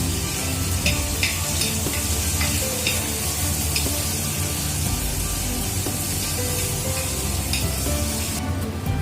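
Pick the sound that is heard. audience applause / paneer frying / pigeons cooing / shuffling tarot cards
paneer frying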